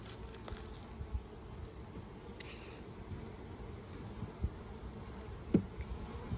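Honey bees buzz around Langstroth hive frames during a spring inspection, a soft continuous droning hum with a few faint knocks and rustles close by, and no voices.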